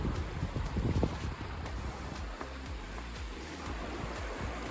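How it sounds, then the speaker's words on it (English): Steady rushing of a river flowing beside a campsite in the Rockies, a constant broadband wash of water close by, with some low gusty rumble early on and no talk. "Right by the river"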